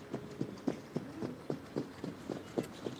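A racehorse trots under saddle at Vincennes, hooves striking in a quick, even rhythm of about three to four beats per second, close and distinct over a low ambient rumble.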